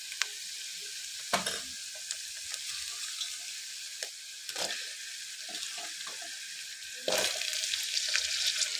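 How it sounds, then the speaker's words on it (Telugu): Taro pieces fry in oil with browned onions, a soft continuous sizzle and hiss, broken by a few clattering stirs and bumps, one louder burst near the end, no talking. "ఉల్లిగడ్డ ఇప్పుడు ఈ స్టేజ్లో మనము చామగడ్డ అనేది యాడ్ చేసుకోవాలి."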